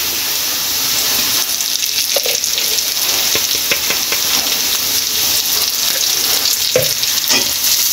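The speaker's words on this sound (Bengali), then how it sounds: "এখন এইগুলো নেড়ে চেড়ে অনেক ভালো করে কষিয়ে নিয়ে" Spices with coriander powder and salt are stirred and fried in a pan, a loud, continuous hissing sizzle with scraping stirs throughout.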